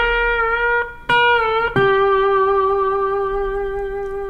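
An electric lap steel guitar tuned to open G plays a short lick: a few sustained, ringing notes struck in sequence, each sliding or settling into the next, ending on a long held tone that slowly fades.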